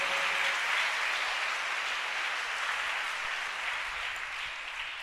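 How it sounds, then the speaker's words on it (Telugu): A church congregation at a revival meeting claps together in praise, a broad, even roar of hands that continues unbroken and gradually eases slightly toward the end. "అందరూ ఒకసారి సంతోషంగా చప్పట్లు కొడుతూ దేవుని మహిమపరుద్దాం"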